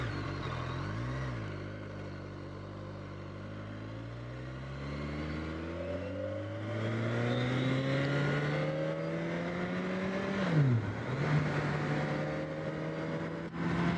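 A BMW K1300S motorcycle climbs a hill, its engine note rising steadily through the gears with one quick dip at a shift, loud and continuous alongside wind rush.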